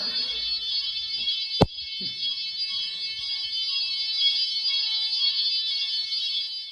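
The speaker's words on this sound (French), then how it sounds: "je crois qu'il y a un connard qui a allumé l'alarme incendie" A hotel fire alarm rings continuously at a steady, piercing high pitch, with one sharp knock partway through and faint room noise underneath.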